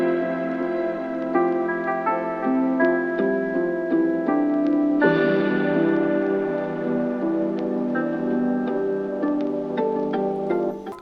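A lo-fi hip-hop beat made in FL Studio, with soft stacked harmonic chords and a simple melody over light percussive ticks, plays steadily at moderate level with a chord change midway and no voices.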